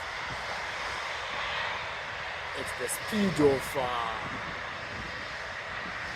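A private jet takes off on a windy day with a broad, steady engine roar that swells briefly in the middle. Gusty wind noise is constant and someone speaks over it.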